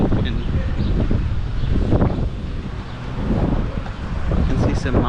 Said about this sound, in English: The wind feels really nice, very pleasant wind.